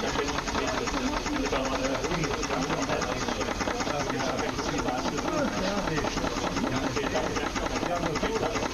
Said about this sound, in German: Das ist echt Dampf, ne?